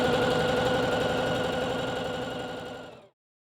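A sewing machine stitches elastic onto bra fabric, a steady rapid mechanical whirring with fine regular stitch pulses running for about three seconds before stopping abruptly.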